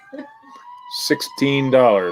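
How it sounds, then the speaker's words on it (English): A siren wails outside during a Saturday night auction, its faint steady tone audible in the background while people talk loudly over it. "This siren's going off like crazy out there."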